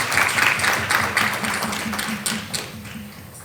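Clapping from the audience at a Latin American climate resilience gathering, a busy patter of many hands, strong at first and gradually thinning and fading toward the end.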